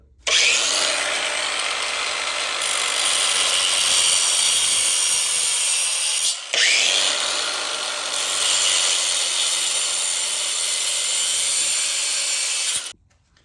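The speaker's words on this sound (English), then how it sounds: "For all of these brake lines that have fittings on them, what I'm gonna do is just cut them." A power cutting tool slices through steel brake lines on an old truck frame during a frame-off build, giving two long, loud, harsh grinding passes separated by a short break.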